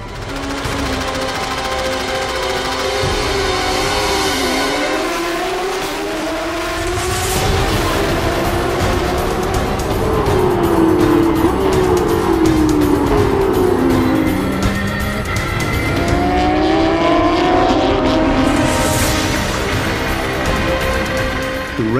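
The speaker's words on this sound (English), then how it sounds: "Right after the start, Clemens Schmid manages to overtake the young Kuwaiti" Porsche GT3 Cup race cars racing at Dubai Autodrome, with loud, continuous engine whine whose pitch sweeps up and down through gear changes as several cars pass close by.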